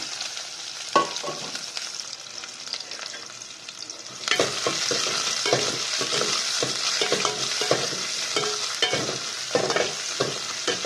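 Cumin, onion, garlic and fenugreek sautéing in oil for tomato rasam make a loud close sizzle. It jumps up partway through, and brisk stirring adds frequent scrapes.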